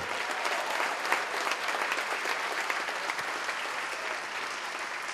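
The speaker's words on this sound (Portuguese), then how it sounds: "Então comemora, dá uma salva de palmas." Church congregation clapping steadily throughout, a dense, even wash of many hands at moderate distance with no pauses.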